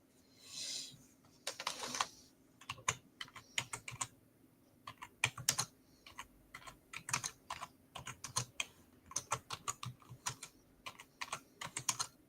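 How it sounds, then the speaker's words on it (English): Fingers type on a computer keyboard in quick, irregular bursts of close, crisp keystrokes with short pauses between runs, against a faint steady hum and no talking. "I've remembered it as I'm typing it in."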